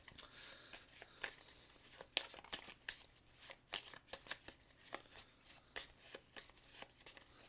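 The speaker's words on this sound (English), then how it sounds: "So we're gonna just shuffle these up." Guardian cards from the Ankh: Gods of Egypt board game being shuffled by hand, a close, steady run of crisp riffling snaps and papery flutters with no talk over it.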